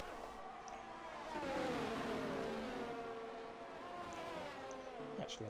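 A race car engine in an F1 racing game whines in a high rising and falling pitch during an overtake, fairly faint and distant with a steady drone underneath.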